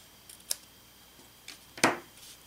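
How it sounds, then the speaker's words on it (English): A few short scissor snips trim the edge of paper card stock for a spider-themed card, quiet and isolated, with one firmer cut near the end. "we're just going to trim this a little bit more"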